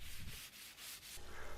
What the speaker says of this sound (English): we scraped the deck to remove any rough edges and sanded it using 60 grit sandpaper